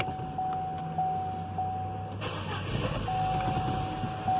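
A 2012 Chevy Cruze Eco with a 1.4L turbo engine restarts after stalling. A repeating warning chime beeps steadily, then the engine catches about halfway through and runs with a low, steady rumble close by.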